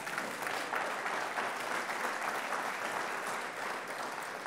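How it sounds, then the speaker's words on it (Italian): Sustained audience applause fills a church hall during a pastor's sermon, a dense, steady wash of many hands clapping at moderate distance, without a break and with no voices standing out. "Grazie per il vostro applauso, ci vuole, ci sta."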